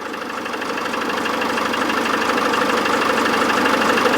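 A van engine at operating temperature idles steadily, with an AdBlue fault present; loud, close, even low rumble with a faint rhythmic knock, no talk.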